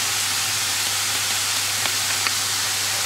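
Garlic joins mushrooms frying in a pan, giving a steady broad hiss and sizzle with a couple of faint clicks partway through and no voices.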